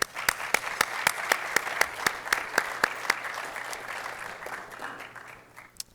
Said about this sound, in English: Ladies and gentlemen, let's give him a round of applause.